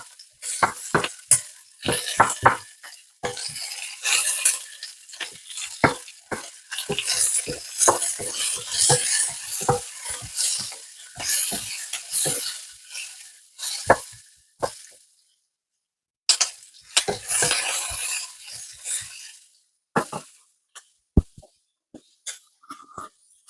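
Beef and capsicum are stir-fried in a pan, with loud, close sizzling bursts and repeated clinks and scrapes of a utensil against the metal, broken by brief pauses.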